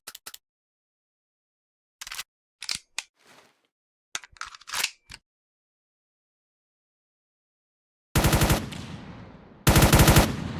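Gunfire from a Roblox game weapon with infinite ammo: scattered single shots and short bursts early, then two long sustained automatic volleys, loud and close.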